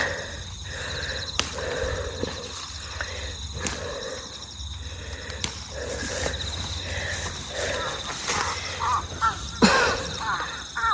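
Crows caw repeatedly outdoors around a rural vegetable plot, harsh calls rising and falling at varying distances over a steady low background hum, with occasional sharp knocks.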